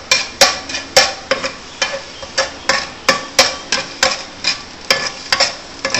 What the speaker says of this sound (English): Okay, stir fry.